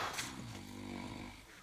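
A man snoring indoors, a low rumbling drawn-out breath with a steady, close, moderately loud tone and no talk over it.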